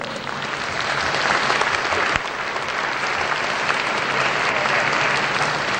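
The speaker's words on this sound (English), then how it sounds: "Prime Minister Thaksin deserves a great round of applause" A large audience at a Reverend Jesse Jackson event gives sustained applause for Prime Minister Thaksin, a dense, steady wash of many hands clapping close and loud from start to finish.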